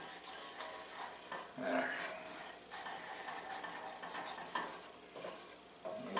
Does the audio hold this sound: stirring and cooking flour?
yes